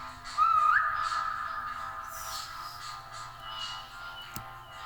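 A person gives a short, fairly quiet whistle with a slight upward wiggle in pitch. Faint room noise follows.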